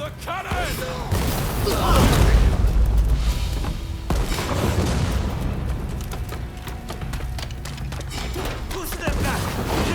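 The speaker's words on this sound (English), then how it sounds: "Fire the cannon!" Cannon fire in the video game Rise of Ronin comes as heavy booms and rumbling blasts amid battle noise, with repeated impacts across the stretch and voices shouting through it.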